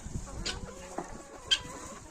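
Soft, scattered clucking from a few hens over a low farmyard murmur, with a couple of sharper calls standing out.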